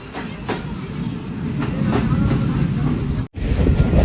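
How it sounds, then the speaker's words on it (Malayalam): A passenger train on the Tinsukia–Ledo line in Assam rolls toward a station with a steady rumble and rhythmic clickety-clack of wheels over rail joints, heard close from inside the carriage, briefly cutting out near the end. "അടുത്തൊരു സ്റ്റേഷനിലേക്ക് ഇതാ ട്രെയിൻ എത്തിക്കൊണ്ടിരിക്കുകയാണ്."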